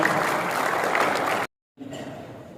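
An audience at a regional organisation's plenary assembly in a Papua hotel gives a dense, steady round of applause that cuts off abruptly, then resumes more faintly after a short silence.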